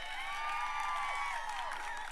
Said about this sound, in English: Look at them clapping for me